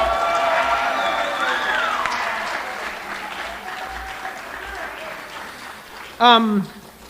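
Audience at a school band awards ceremony applauds and cheers for a student, a dense wash of clapping with voices mixed in, tapering off, then a single loud close whoop near the end.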